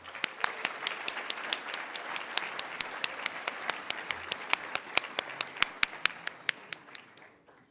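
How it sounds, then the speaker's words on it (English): Audience applauding at an engineering week banquet, dense steady clapping with sharp individual claps standing out, sustained for several seconds before tapering off at the end. "Give them one more round of applause."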